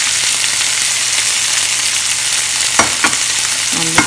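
Idli upma with cilantro, cumin and chilies sizzles steadily in a frying pan, with a few soft scrapes of a stirring spoon near the end. The sound is close and constant, and no one speaks.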